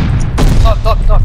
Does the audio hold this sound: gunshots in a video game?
yes